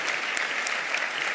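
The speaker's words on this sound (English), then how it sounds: "you've clapped for Frank, you can hold the applause until I list everybody else" A luncheon audience applauds Governor Frank Keating, a dense, even burst of many hands clapping at moderate distance with no voices over it.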